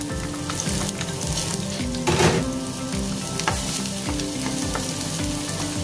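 Chopped garlic sizzles and crackles steadily in hot cooking oil, with a few stirring scrapes and a brief louder burst partway through, close and continuous, with no voices.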